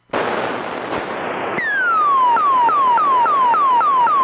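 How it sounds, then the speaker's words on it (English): A tube radio with a tone control switch engaged gives off a loud, continuous high-pitched oscillation: a broad hiss first, then a steady train of repeating downward-sweeping whistles, roughly two per second. "the high-pitched oscillation, is being produced by engaging that switch"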